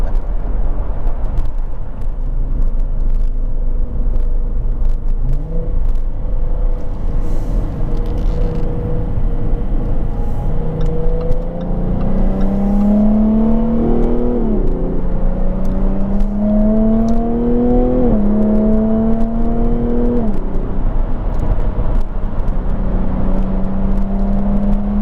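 A Jaguar F-Type sports car engine idles with a low exhaust rumble, then revs up several times in rising, falling sweeps before settling back, loud and close with no talking.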